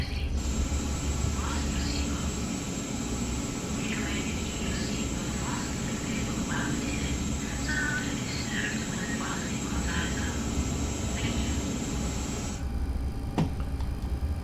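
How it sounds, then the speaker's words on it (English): Boeing 737-400 engine 2 spools up during a start in a flight simulator, a steady whine and hum with cockpit clicks and tones, cutting off abruptly near the end. "we'll commence engine 2 start now"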